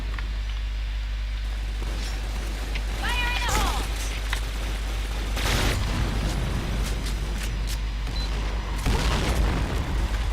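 Deep booming bomb blasts from a multiplayer shooter video game, a couple of heavy bursts over a constant low rumble, with people talking underneath.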